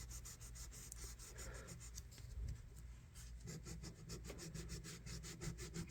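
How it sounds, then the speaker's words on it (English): Sanding the handle of a vintage Monarch knife by hand, a close, steady back-and-forth rasping scrape repeating in quick even strokes throughout, fairly quiet with no voices. "maybe we can sand these off just a little bit"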